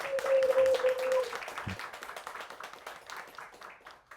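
A talk audience claps for a featured actor, a moderate, fairly distant patter of hands that swells early and then thins out and fades, with a brief held tone at the start.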